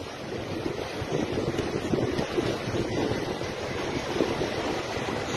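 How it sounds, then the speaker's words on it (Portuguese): Roaring surf from storm swell and high tide pounds the shore at Praia de Zimbros in Bombinhas, Santa Catarina, a loud continuous wash of breaking waves mixed with wind buffeting the microphone, with no voices. "Ó, vê que ronco d'água."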